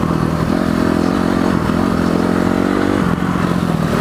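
A motocross dirt bike engine runs loud and close with a buzzy, droning note that wavers in pitch as the throttle shifts, continuous throughout with no speech.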